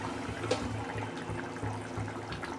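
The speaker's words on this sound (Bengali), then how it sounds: "দেখো ঝোলটা ফুটছে, আমার রেডি হয়ে গেছে শোল মাছ দিয়ে ভেজিটেবিল দিয়ে" A pot of snakehead fish and vegetable curry simmers at a low rolling boil, its soft bubbling and gentle churning steady and close throughout.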